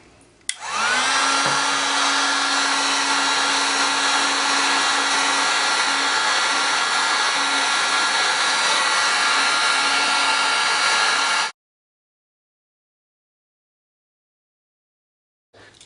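A heat gun blows hot air to shrink heat shrink tubing over the end of LED neon flex, a loud steady roaring whoosh that starts abruptly, holds for about ten seconds, then cuts off into silence.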